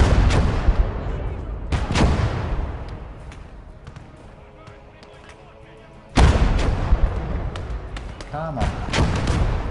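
Bursts of heavy gunfire and booming impacts from the World War II strategy game Close Combat: Gates of Hell, loud blasts near the start and from about six seconds on, with a quieter stretch between and someone talking over it.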